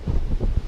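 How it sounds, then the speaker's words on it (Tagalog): Strong gusting wind batters a motorcycle on a mountain climb toward Malico, a dense, low rumbling buffet across the microphone with no voices. "dahil sa lakas ng hangin ay di tayo makausad pataas"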